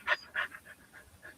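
A dog panting close by in quick, breathy bursts, two stronger huffs followed by softer, uneven pants, fairly quiet and alone.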